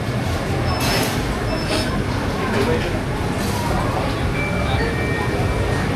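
Kuala Lumpur MRT metro train at Bukit Bintang station, a steady close rumble of rolling carriages with thin wheel squeals rising over it, while people talk nearby.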